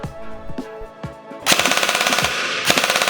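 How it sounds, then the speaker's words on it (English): Kestrel V2 airsoft AEG firing on full auto at its default rate. A few separate mechanical clicks give way to a loud, rapid, evenly spaced burst of shots, close and with no voices. "At this point, the AEG will fire at the default normal rate of fire."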